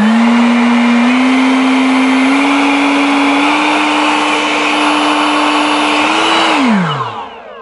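An EGO cordless leaf blower on its non-turbo setting runs loud and close with a steady whirring drone, its pitch stepping up slightly a few times before it winds down at the end.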